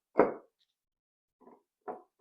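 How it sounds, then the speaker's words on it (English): An ice cube drops into a glass being readied for whiskey: one sharp, close clunk, then a few quieter clinks and rattles spaced out over the next two seconds, with silence between them. "we'll take our ice cubes and we'll put one of these bad, delicious puppies right there in the middle"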